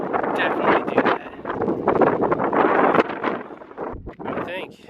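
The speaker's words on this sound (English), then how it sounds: "It's really windy up here." Strong wind buffets the microphone on the Parthenon hilltop in Athens, Greece, a loud, rushing roar with gusts that swell and drop, while a person talks over it.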